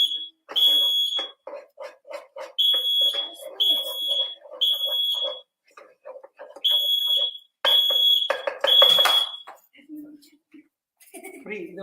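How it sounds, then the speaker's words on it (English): Repeated high-pitched smoke alarm beeps in bursts, set off by cooking smoke in a kitchen, sounding loud and close, with people talking underneath and between the beeps. "We muted to stop the fire alarm jarring"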